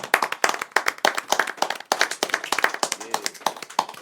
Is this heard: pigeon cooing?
no